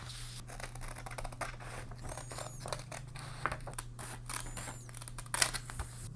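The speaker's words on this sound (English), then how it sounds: "I will use a pair of scissors to cut this rounded part off" Scissors snip around the rounded edge of a paper printable poster. Many close, crisp cuts come in an irregular rhythm with light paper rustling over a low steady hum.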